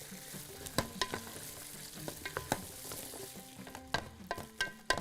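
Carrots frying in a seasoned pan while cooking Bahraini thareed: a steady soft sizzle broken by sharp clinks and scrapes from stirring, close and quiet, with no voices.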